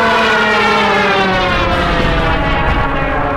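In the tank combat game Tank Squad, a propeller airplane drones loudly overhead, a dense, sustained engine roar that holds steady and close throughout with no talk over it.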